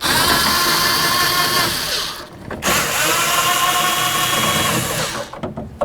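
Power tool spinning off the window regulator mounting nuts inside a 2002-08 Dodge RAM 1500 door, a loud close whirring drill sound in two long bursts with a short pause between them.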